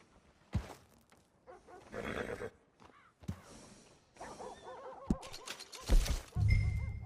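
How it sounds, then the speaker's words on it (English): A horse whinnies and snorts in Red Dead Redemption 2, with several sharp neighs and a short clip-clop near the end, broken up by quieter gaps. "And a fine new horse."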